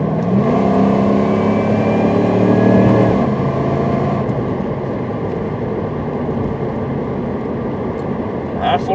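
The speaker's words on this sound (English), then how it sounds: "I floored it that time and it shifted really firmly." A 1998 Jeep Grand Cherokee engine is floored, its rising drone climbing steadily and loudly before a firm gear shift drops the pitch, then settling into a steadier cruising hum.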